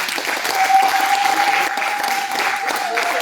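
A church congregation claps loudly to acclaim Jesus during a pastor's sermon, a continuous close roar of applause with a sustained musical tone running underneath.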